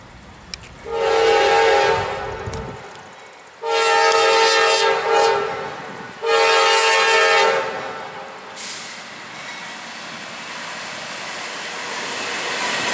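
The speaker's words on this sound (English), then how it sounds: "we'll get a shot of the train coming by" A train passes a railroad crossing on a rural Georgia route between Cordele and Tifton, sounding three long, loud horn blasts with a short gap before the last, then rumbling off into the distance.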